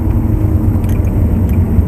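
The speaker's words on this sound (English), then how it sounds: "you got a car just coming past you" A car drones past loudly and close on the Silverstone race track, with a steady low engine rumble and whir that holds throughout.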